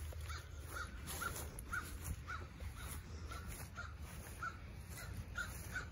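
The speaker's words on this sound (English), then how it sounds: "That crow, man." A crow caws repeatedly outdoors, a regular series of about a dozen harsh calls at moderate distance over a steady low rumble of ambient noise.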